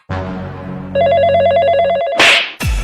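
A telephone rings close by, a low buzzing tone followed by a bright repeating electronic trill, then a sharp clatter near the end.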